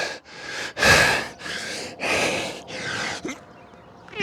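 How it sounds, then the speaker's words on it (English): Heavy, labored breathing after a set of push-ups during a simple morning workout, a run of loud close gasping inhales and exhales in an uneven rhythm, with no talk. "doing push-ups really keep the breathing going"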